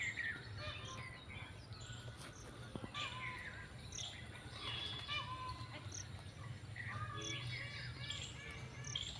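Birds chirp and tweet in a Rajasthan village in quick, scattered calls, some near and some farther off, over a faint hum of insects. The whole scene is quiet.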